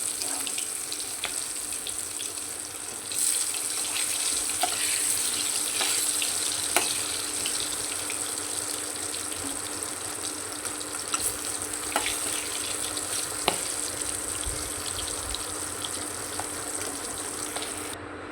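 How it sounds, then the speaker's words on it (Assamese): Pointed gourd (potol) fries in hot oil with a loud, steady sizzle that runs the whole time, dotted with faint clicks and no voices. "এতিয়া ধুনীয়াকৈ মই পটলখিনি ফ্ৰাই কৰি ল'ম"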